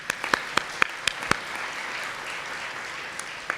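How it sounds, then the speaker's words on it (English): An audience at a workplace leadership event applauds an honored staff member, with a run of distinct nearby claps over steady crowd clapping that fades to a soft background patter. "So a round of applause for Mary Adams."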